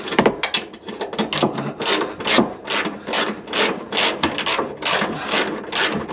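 A socket wrench on an extension ratchets while loosening bolts during a diesel heater fuel tank installation, giving a close, loud run of rhythmic clicking sweeps, each stroke a burst of pawl clicks repeating steadily.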